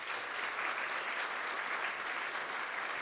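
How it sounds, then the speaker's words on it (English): Sustained audience applause at a State of Black America event, a thick, even roar of many people clapping at constant loudness throughout. "a warm, warm applause"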